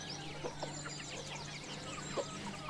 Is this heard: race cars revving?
no